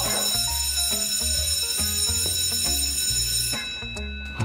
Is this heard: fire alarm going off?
yes